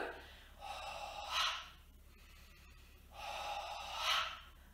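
Slow, deep breathing during a gentle home posture and wellness exercise: two long, airy inhale-exhale swells, each building to a breathy peak, close and soft with a quiet pause between them.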